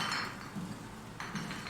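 Light glass clinks and taps as glass objects are struck in the sci-fi horror game SOMA, with a few soft, close knocks over a low ambient hum.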